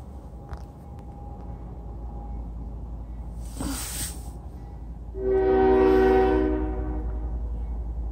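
A southbound CSX freight train rumbles past, with a short burst of wheel noise and then a loud, sustained horn blast rising over the steady low rail rumble.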